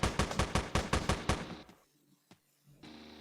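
Rapid burst of gunfire in the top-down shooter Teleglitch, about seven evenly spaced loud shots over a second and a half, then near silence broken by one sharp click and a low hum.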